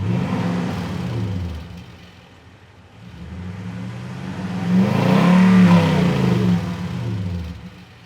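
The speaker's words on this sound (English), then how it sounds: "Let me give it a couple revs and let's see." A car engine fitted with a gag exhaust whistle is revved twice, each rev swelling into a loud, close roar and dropping back to idle, with no whistle tone audible.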